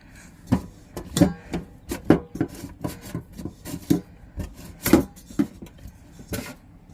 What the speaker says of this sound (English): knead up this flour for the spinners